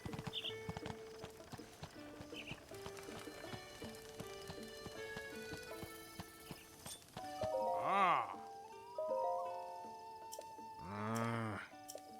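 Horse hooves clop steadily in Breath of the Wild under layered game music, then two loud, close whinnies ring out in the last few seconds.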